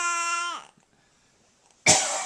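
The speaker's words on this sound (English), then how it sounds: "Daddy's gonna cough one more time" A man coughs twice, a single hard cough and then, after a quiet pause, another sharp burst close to the listener.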